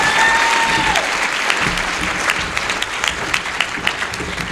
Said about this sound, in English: give one more big round of applause for all of our 5 awardees